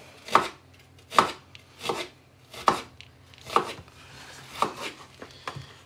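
Big kitchen knife chopping an onion for chicken and red lentil dal: seven sharp, evenly spaced chops on a board, close and crisp, with quiet gaps between strokes.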